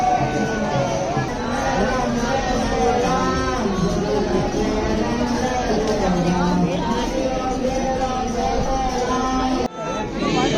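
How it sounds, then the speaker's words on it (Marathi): A dense crowd gathered at the Khajuraho light show, a steady loud babble of many overlapping voices close around, continuous until a brief dip near the end. "खतरनाक गर्दी."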